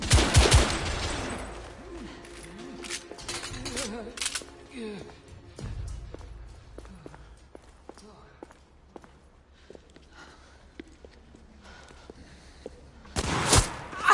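Gunfire in the video game The Order: 1886 starts with loud shots, gives way to scattered sharp cracks and footsteps, then ends in another heavy burst, with voices speaking in between.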